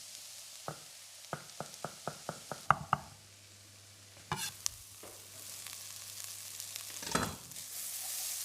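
Garlic and browned lamb fry in a pan with carrots and onions, a run of sharp regular knocks and stirring scrapes up front, then softer sizzling and occasional clatter, close and fairly quiet with no talk.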